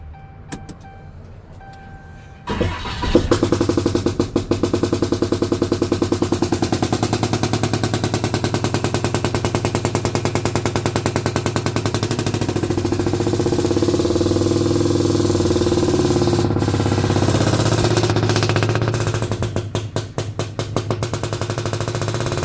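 A 2011 Dodge Ram's Cummins 6.7 diesel engine, which has a clogged EGR and a starting problem, cranks briefly and then catches into a loud, rough, clattering idle that runs steadily up close.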